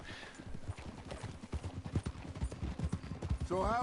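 Horse hooves clip-clopping at a steady walking pace in the Red Dead Redemption 2 video game, close and clear, with voices talking over the riding.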